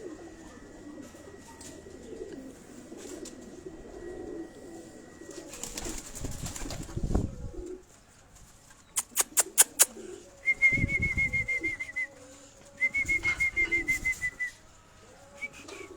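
Pigeons coo softly on a rooftop loft amid faint outdoor ambience, with a few sharp whistles and short bursts of louder bird calls scattered through.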